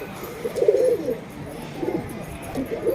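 Pigeons kept in a coop coo softly in a few low, rounded phrases, moderately close, with quiet background hiss between calls.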